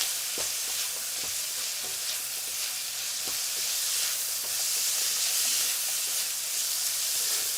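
Prosciutto frying in a pan for fettuccine alla papalina, with a loud, steady sizzle and hiss that runs throughout, broken by small crackles and pops.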